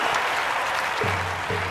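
A stadium crowd claps and cheers for an archer in a London 2012 Olympics video game, a dense, steady wash of applause with a low hum entering partway through.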